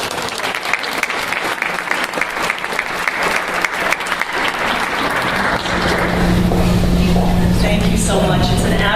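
Audience applause welcomes Ms. Tracey Jones to the podium at a leadership award ceremony, a steady roar of clapping that swells and grows denser and louder toward the end, with no speech over it.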